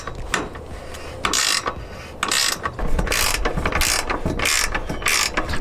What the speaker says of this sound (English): that ratcheting wrench comes with the tool, so they give you everything you need